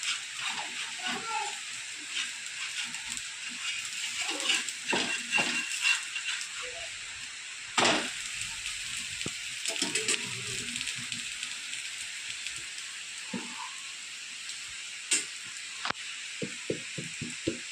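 Oil sizzling in a pan as thalipeeth (dhapate) flatbread fries, a steady close hiss throughout with occasional light clatter and faint voices in the background.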